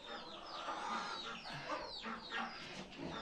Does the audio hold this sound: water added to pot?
no